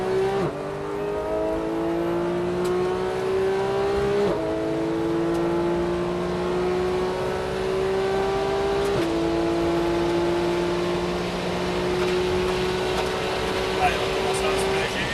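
Porsche 991 GT3 at full throttle on the Paul Ricard circuit at Le Castellet, engine note climbing steadily through the gears with brief dips at each upshift, loud and continuous from start to finish.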